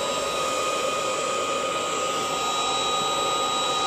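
A heat gun runs steadily on its lowest setting, a constant close whooshing blower roar with a faint high whine, unbroken for the whole stretch with no talking.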